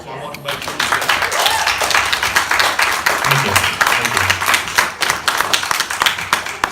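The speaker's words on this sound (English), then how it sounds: "So you deserve a round of applause." A town hall meeting crowd claps steadily and loudly. The rapid claps are dense and fill the whole stretch, with some voices mixed underneath.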